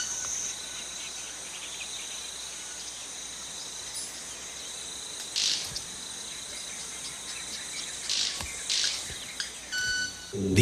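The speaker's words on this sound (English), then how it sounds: "the sounds come not from the bird's mouth, but from its wingtips" A moonwalking bird makes thin, high-pitched calls with its wingtips. Short, sharp bursts and buzzy tones come a few times over a steady insect-like hiss of background trills.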